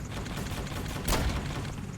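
Rapid gunfire from an Apache Longbow helicopter's gun in the Roblox War Tycoon game, a dense, continuous rattle of shots with a louder burst partway through.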